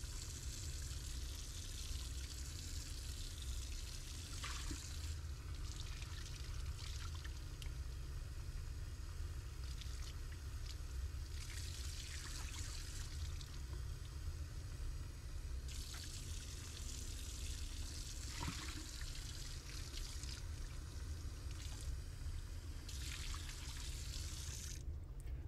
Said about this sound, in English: Again, I like to rinse my glassware with distilled water before I get started.